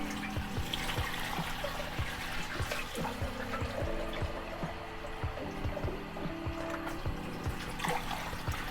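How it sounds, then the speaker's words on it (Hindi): Water poured into a cooking pot holding beef for nihari, a steady trickling, splashing flow that runs continuously near and fairly loud, with clinking and thumping of the pot underneath. "अब हम इसमें पानी डालेंगे।"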